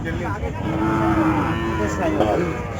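A young Sahiwal bull calf, about six to seven months old, at a livestock collection: one long, loud, close moo over the whole stretch, with rising tonal bends and steady background noise.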